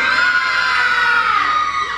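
A crowd at a folk dance closing event gives a loud, sustained collective shout lasting about two seconds on cue during a traditional song, voices blending into one dense cheering yell.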